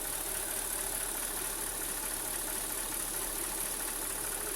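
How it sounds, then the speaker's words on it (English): A Mercedes S430 V8 idles with its air filter removed, a steady, even engine drone with a faint underlying bubbling, gurgling texture, close and continuous with no talking. "the bubbling noise that was coming from here has gotten far less frequent as the engine's gotten warmer"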